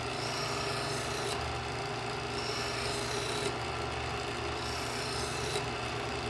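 A Smith's Adjustable Edge Pro electric knife sharpener grinds a knife blade on ceramic wheels, a close, steady motor hum with rasping strokes that flare three times at roughly two-second intervals.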